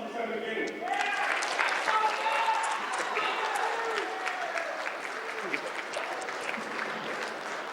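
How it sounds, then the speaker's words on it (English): A crowd at a morning school gathering gives a round of applause for a lieutenant, moderately loud clapping with voices and cheers woven through, tapering gradually toward the end. "Let's give a round of applause"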